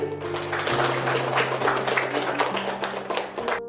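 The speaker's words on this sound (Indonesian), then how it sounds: "Boleh kita beri tepuk tangan sekali lagi?" Workshop audience applauding indoors, a dense, steady patter of many hands clapping that holds evenly for several seconds over a low electrical hum.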